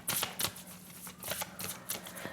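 Tarot cards being drawn and shuffled, a close series of crisp papery riffles and slaps coming in irregular bursts with brief pauses between.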